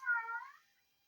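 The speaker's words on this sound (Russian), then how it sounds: "Кот горластый у нас вот орет постоянно." A cat lets out a single drawn-out, fairly faint meow indoors beside a stove, the call tailing off quickly into silence.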